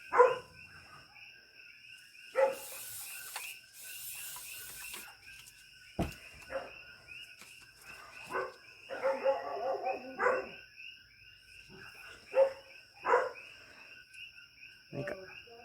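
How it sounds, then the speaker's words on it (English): Several dogs bark at night in short, scattered bursts, some close and some distant, with quiet gaps and faint insects between them. "all the dogs are barking now"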